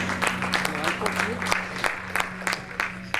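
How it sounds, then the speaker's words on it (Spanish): A church congregation claps together during a sermon, a brisk, rhythmic patter of many hands with sharp individual claps standing out, while a steady low hum runs underneath and voices mingle in. "Dense aplausos en esta hora con el nombre del Señor Jesús."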